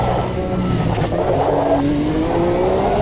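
Race car engine in Automobilista 2 revving loud and close, pitch climbing steadily through the gears with a continuous droning whine and faint tire noise, no voices.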